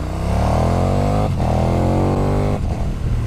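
KTM Superduke R motorcycle engine climbing a hill road, loud and close, revving up through the gears in three rising pulls, each broken by a brief dip at the gear change.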